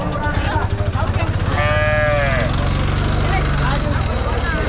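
A cow with her calf at a cattle market in Mattrapalli lets out a drawn-out moo amid the market's noise, and someone talks close by over the animal sounds.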